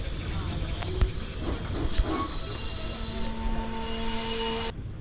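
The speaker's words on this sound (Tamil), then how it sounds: "இப்போது இந்த மோகனூர் ரயில்வே ஸ்டேஷன்லேருந்தும் ட்ரெயின் ஸ்டார்ட் ஆகிடுச்சு." Palakkad Express train departing Mohanur railway station at night, a loud steady rumble and hiss with a sustained whistle tone and a couple of clanks.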